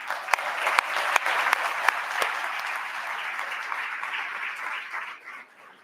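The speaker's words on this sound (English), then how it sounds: "Let's give everybody a round of applause." An audience at a lunch forum applauds steadily for several seconds, a dense wash of clapping with a few sharp individual claps standing out, fading slightly at the end.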